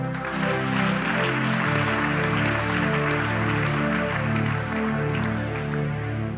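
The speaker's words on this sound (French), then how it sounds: "Si tu le crois, acclame très fort" A church congregation applauds and cheers loudly, a dense, steady wash of clapping and voices running the whole time over sustained keyboard or organ music.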